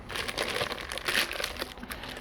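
Plastic bag crinkling and rustling as it is worked off a reinforced silicone hose for a Can-Am X3 CVT, a steady close crackle with a brief louder crunch midway and no talking.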